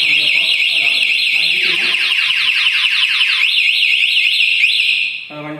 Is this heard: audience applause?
no